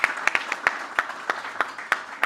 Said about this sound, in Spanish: Pido un aplauso para Hernán